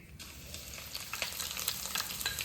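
Curry leaves and green chillies sizzling in hot oil after mustard seeds, a steady bright crackle with scattered sharp pops throughout, close and fairly loud with no voices.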